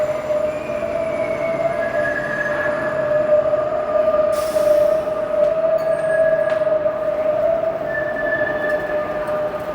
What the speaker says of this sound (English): There goes the streetcar.